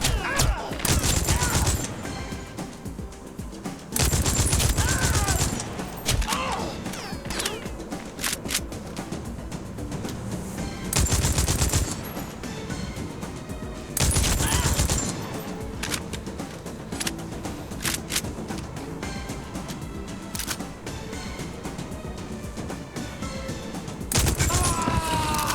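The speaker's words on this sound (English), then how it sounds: "I thought that was a different gun, but it's just a regular gun." A regular gun fires in the video game TimeSplitters Rewind in repeated loud bursts of shots spread across a busy, noisy firefight.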